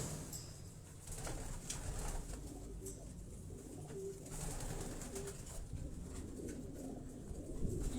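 Racing pigeons coo in Tanveer Hussain's loft in Quetta, soft repeated low calls from several birds running steadily throughout at moderate closeness.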